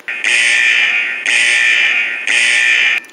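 A loud electronic fire alarm buzzing in three long, even bursts separated by brief gaps, harsh and steady, with no talking.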